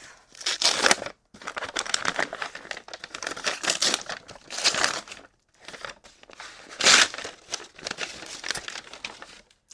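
A paper-wrapped book is unwrapped close by: bursts of crinkling and tearing paper in several separate handfuls, with short pauses between them and no talking.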